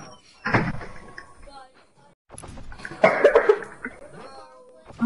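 Two harsh, close coughs from a person, one near the start and a heavier burst a few seconds later, with quiet room noise between them.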